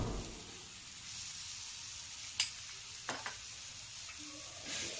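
Green chili thecha tipped into tomatoes in a hot pan, giving a steady close sizzle with a few sharp spattering pops and stirring scrapes, no talking.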